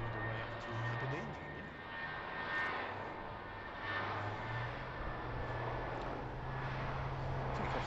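A British Airways jet airliner taking off from Heathrow for Aberdeen, heard as a faint, distant, steady roar of jet engines that swells and fades slightly.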